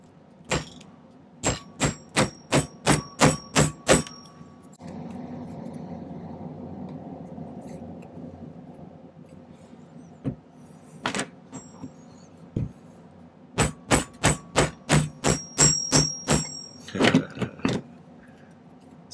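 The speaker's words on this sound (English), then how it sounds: "hold it on the edge of my little anvil surface and just use my plastic hammer to" A plastic hammer taps silver against the edge of a small anvil in quick rhythmic runs of sharp, bright strikes, pausing between bursts, close and fairly loud.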